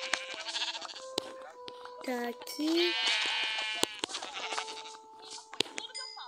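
Sheep bleat several times, wavering cries close by, mixed with clicks, knocks and a person speaking briefly nearby.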